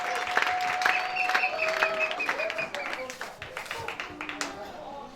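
Applause and clapping from a church congregation praising during a service, lively and fairly close, with voices and ululation-like calls mixed in over sustained tonal sounds.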